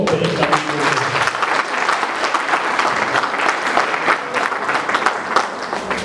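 A church congregation applauds in a dense, sustained burst of clapping that carries steadily from start to finish, with faint voices mixed into the crowd.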